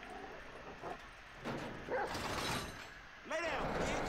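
A dog in GTA 5 yips and whimpers in short bursts amid game noise, with a sharper bark near the end and someone talking over it.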